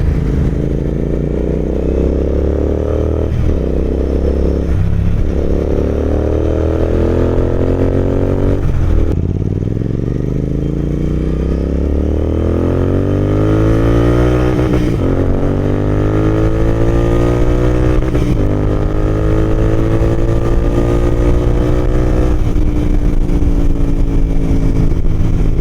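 A Harley-Davidson motorcycle rides along, its engine loud and close throughout, rising in pitch as it accelerates, then dropping at repeated gear shifts.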